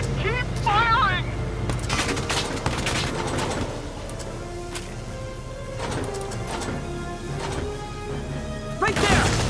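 Gunfire and explosive impacts from a Valkyria Chronicles 4 battle: repeated loud shots and crashing blasts scattered through the scene, with in-game voices and game music running under the combat.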